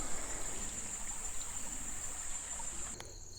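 Water trickles steadily from a bottle through a gravity water filter outdoors, a soft continuous flow with no talking.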